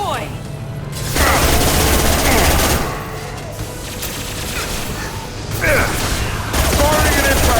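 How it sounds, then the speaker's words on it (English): Impact shot weapon fire in the game Mass Effect 2, with loud bursts of gunfire and booms repeating across the clip over a dense battle din with a low continuous rumble. "Firing an impact shot."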